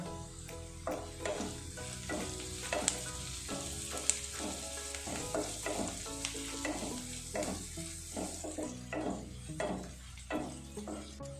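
Onions frying in a pan with a little salt for a coconut-milk egg curry, a steady close sizzle broken by regular rhythmic scrapes of a spoon stirring against the pan, no voices.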